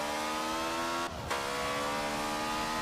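Lotus 11 race car in the Forza game accelerating hard, a continuous high engine howl with a brief dip in tone at a gear change before it climbs again.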